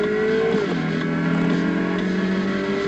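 A BMW M3 E92 engine pulls hard and loud throughout, its steady drone shifting pitch briefly near the start, then holding a strong, close, continuous note with no voices.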